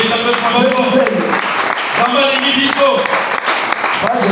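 A church congregation applauds the Lord, continuous rhythmic clapping mixed with voices and music-like tones throughout.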